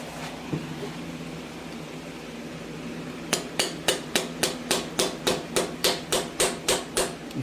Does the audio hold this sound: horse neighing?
no